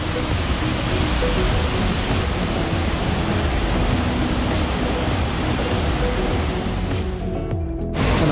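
A loud, constant roar of water pouring down a canal waterfall in Dubai, dense and unbroken throughout, very close.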